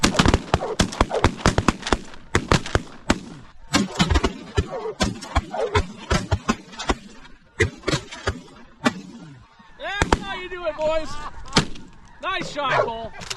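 Shotguns fire during a bird hunt, with many sharp, loud reports, some in quick succession, mixed with bursts of talk and shouting, plus bird calls or whistles later on.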